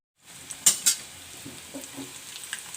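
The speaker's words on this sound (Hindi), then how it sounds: "अब मैं ये एक एक करके सब तलने के लिए रख दूँगी" Potato snacks shallow frying in oil in a frying pan give a steady soft sizzle, with two sharp clinks near the start as pieces are set in, followed by light scattered taps and spatters.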